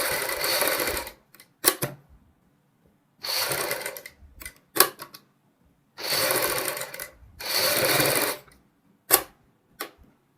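A sewing machine stitches a kurti neckline in short bursts of rapid, close mechanical whirring, separated by pauses and single clicks and clacks of handling the fabric.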